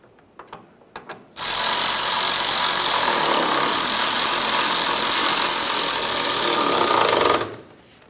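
Power tool running the mounting bolt into a brake hose bracket on a 2004-2008 Ford F-150 frame, a loud steady buzzing whir lasting about six seconds after a few short clicks, close up with no talk.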